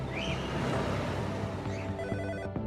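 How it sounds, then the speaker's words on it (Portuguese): A telephone rings faintly in a quiet room, a short electronic trill that repeats softly against a low steady background hum before cutting off. "O telefone toca."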